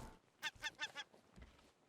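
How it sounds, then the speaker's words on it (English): Seagulls call in the survival game Raft as a quick burst of three or four honking cries, close and fairly faint, followed by a softer trailing call. "Keep missing the bloody seagulls."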